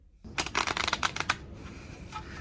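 A deck of playing cards is riffled and bridged aboard a Norwegian cruise ship, a quick burst of crisp flutters lasting about a second, then softer handling noise, near the microphone with no talk.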